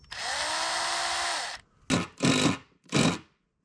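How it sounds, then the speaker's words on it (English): Power drill boring pilot holes during a Volvo camper conversion: one long steady whine, then three short bursts of drilling, close and clear with no talking. "I'm just going to be drilling these pilot holes."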